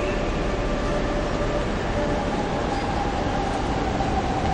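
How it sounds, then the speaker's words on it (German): An ICE train from Leipzig rolling into Hamburg Central Station: a continuous, fairly loud rumble of wheels and carriages echoing through the station, steady from start to end with no talk. "Gleis 5 Einfahrt, ICE 890 von Leipzig an."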